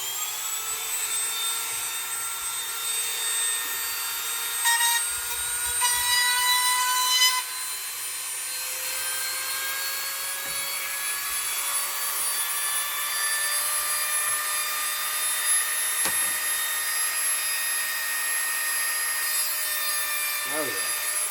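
A single-speed Dremel rotary tool sanding a lifeboat model gives a continuous high-pitched whine with slowly shifting tones, rising and easing as it bears on the workpiece, with brief handling knocks along the way.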